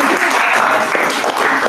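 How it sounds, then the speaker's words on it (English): An audience applauds runners at a campus student gathering, a dense, steady wash of clapping from many hands, loud and continuous throughout with no talk over it. "let's applaud our runners and Hillel for coming over"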